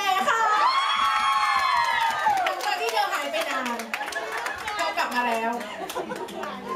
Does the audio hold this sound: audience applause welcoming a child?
yes